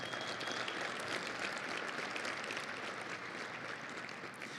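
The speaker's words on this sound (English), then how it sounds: "Let's give Wes a round of applause" Steady applause fills a luncheon room at a Red Raider Club basketball tipoff event, many hands clapping in a continuous even wash, moderately distant and without voices.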